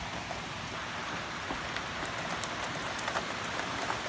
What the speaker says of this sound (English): Now we're getting our deserved rain.